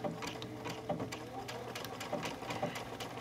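A sewing machine runs a close zigzag appliqué stitch at about 1.2 stitch length, a steady rapid mechanical whir with rhythmic needle clicks, close and continuous.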